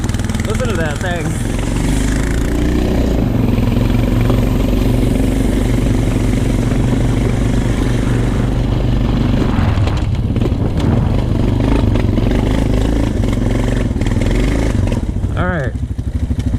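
A Honda TRX450 ATV engine running in the snow, a loud, close, continuous four-stroke throb with slight revving rises, while people talk over it.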